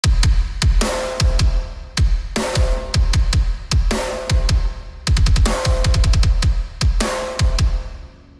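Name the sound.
layered kick and snare drums, RS Drums Monarch Kit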